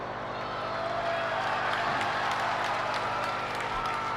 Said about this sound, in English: a big cheer goes out to one of the officials